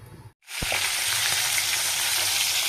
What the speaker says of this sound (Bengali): মাছ ভাজা বসিয়ে দিচ্ছি